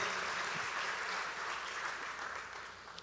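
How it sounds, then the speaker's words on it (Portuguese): Steady applause from a church conference audience, a dense wash of clapping that holds evenly for a few seconds and tapers slightly toward the end. "Podemos aplaudir o Senhor que está aqui"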